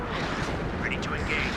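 An artillery bombardment in the real-time strategy game WARNO, heard as a continuous loud rumbling roar of blasts with faint higher whistles above it.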